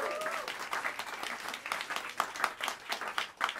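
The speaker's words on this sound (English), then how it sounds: "Please bring your hands together and give a warm round of applause for the great J.K." An audience at Smalls Jazz Club in New York City claps for the drummer in a steady burst of applause from a small room, with a voice briefly audible at the start.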